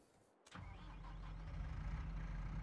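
A tractor engine starts up in Farming Simulator 22 on a Finnish farm, a quick crank and catch that settles into a steady, deep, rumbling idle, alone and fairly quiet.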